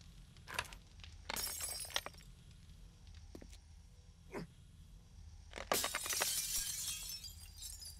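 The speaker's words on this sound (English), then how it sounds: "Us walking on this railing is making that glass unstable." Glass cracking and shattering in the video game 7 Days to Die as players walk along a railing, with several sharp bright breaks in bursts over a low steady background hum, the last burst longest and loudest.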